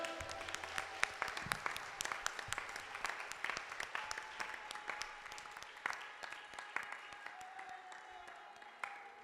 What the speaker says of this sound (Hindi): ताली बजाओ जोर नाल।